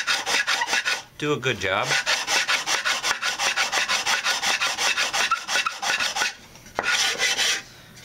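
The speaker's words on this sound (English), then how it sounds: "You can sand a little bit" Sandpaper rubs back and forth over the wooden pieces of a bongo cajon kit in quick, even rasping strokes, close and clear, pausing briefly twice, with a short spoken remark near the start.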